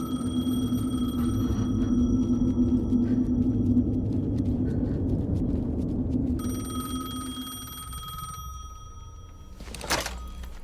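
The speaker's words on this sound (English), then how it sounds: "The phone again." A telephone rings repeatedly in the Alan Wake II video game, steady electronic tones over a low rumbling ambient drone, with a brief sharp thud near the end.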